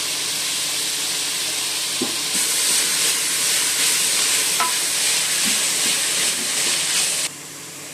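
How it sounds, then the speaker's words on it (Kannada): Dill and fenugreek leaves frying with cooked vegetables in a pan for a masoppu sambar, a loud continuous sizzle and hiss with occasional stirring clicks, close up, then quieting at the end. "ಇದೊಂದು 2 ನಿಮಿಷ ಫ್ರೈ ಮಾಡೋಣ."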